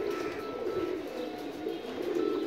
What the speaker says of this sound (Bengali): অনেকগুলো জালালি কবুতর এসে ভিড় করতেছে